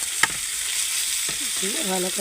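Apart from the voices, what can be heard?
stirring onion frying with beetroot and potato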